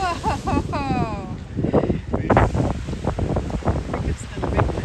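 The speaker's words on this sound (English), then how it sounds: "The wind is blowing, the waves are just turning to mist, the wind's blowing right at us." Strong wind buffets the microphone over a broad roar of ocean surf breaking against a breakwater during king tides, with a person talking and exclaiming throughout.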